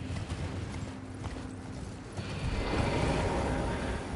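A horse gallops in the Elden Ring video game, hooves clip-clopping steadily under a dense wash of game ambience and music that grows louder partway through.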